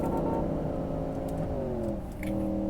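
A car engine in the racing game Live for Speed hums steadily and rises in pitch as it revs, holding a smooth tone with a brief dip near the end.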